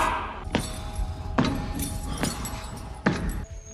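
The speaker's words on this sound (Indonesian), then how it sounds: "Mereka melewati tiap pintu gerbang dan menguncinya kembali." A bunch of keys jangles and clanks as a prison gate is locked, with several sharp metallic strikes spaced a second or so apart over a low hum, close and fairly loud with no speech.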